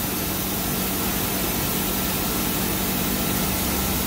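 A 2008 Tsugami SS20 CNC machine spindle running at steady speed, a constant broadband whir with a low mechanical hum, unchanging and fairly close throughout.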